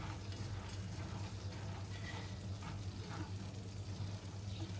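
Boondi frying in oil as a pot is slowly stirred, a steady low sizzle and bubbling that stays even and faint throughout with no voices.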